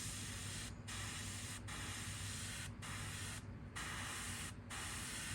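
A PS 771 airbrush with a 0.18 nozzle sprays paint onto a custom fishing lure in a steady, close hiss, broken by several brief pauses as the trigger is released.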